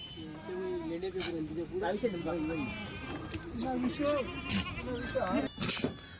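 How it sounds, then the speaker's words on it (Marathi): Several Kathiawari goats bleat repeatedly, wavering calls overlapping one another amid a busy crowd with people talking nearby, as a vehicle load of goats arrives. "मित्रांनो लय मोठ्या प्रमाणात शेळी आलेले आहेत"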